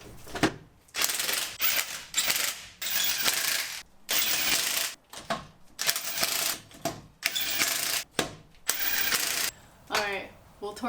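A ratchet tightens bolts during installation of a heavy-duty airbag kit on an F150, with repeated bursts of rapid clicking separated by short pauses and a voice briefly heard.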